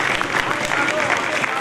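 Brief burst of audience applause at the Bazm e Kehkashaan 2022 event, a dense wash of many hands clapping, loud and continuous with crowd murmur mixed in.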